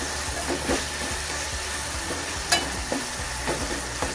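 Tomatoes with a pinch of salt sautéing in a pan for a Maharashtrian vegetable thali, a steady close sizzle with soft scraping stirs and a few sharper clinks of the spoon against the pan.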